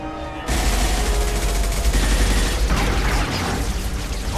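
Sustained gunfire in the video game Mass Effect 2 erupts after a brief pause, a loud, dense rattle of rapid shots with heavy booming low end continuing throughout.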